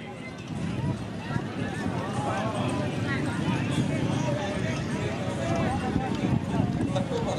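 Horses gallop at a neza bazi tent pegging event at Dhol Ranjha in Mandi Bahauddin, a continuous rumble of hoofbeats and crowd noise under a loudspeaker announcer's voice.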